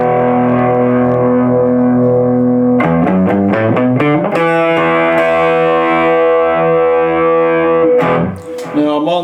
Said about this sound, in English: Now let's try it with a little distortion on the amp.